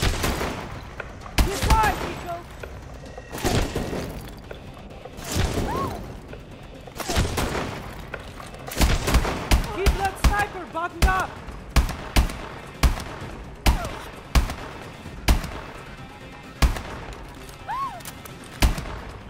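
Gunfire from a Call of Duty Advanced Warfare street battle: repeated sharp bursts and single cracks, spread irregularly and often close, with booming impacts and tonal game effects underneath.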